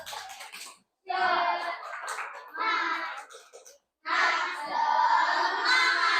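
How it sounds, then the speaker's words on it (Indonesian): A class of children chants a rhythmic spirit clap (tepuk semangat) in loud unison bursts with short pauses between phrases, with a few faint hand claps mixed into the voices. "Tepuk semangat"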